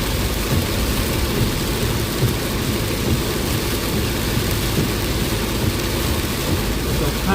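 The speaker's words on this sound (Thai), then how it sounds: "ฝนตกทั่วเมืองขอนแก่นเลยนะเนี่ย" Heavy rain pours over a car driving through Khon Kaen city in a storm, a constant dense hiss and patter with a low engine rumble beneath, steady and loud for the whole stretch.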